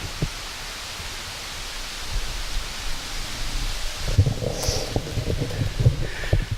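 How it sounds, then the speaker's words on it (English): Strong wind rushes through trees on a hillside during a hunting outing, a steady, breathy roar that never lets up. Near the end, close knocks and clattering handling noises come in over it. "that big tree is swinging in the wind like crazy"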